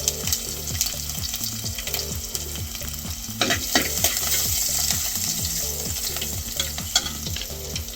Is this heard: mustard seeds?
yes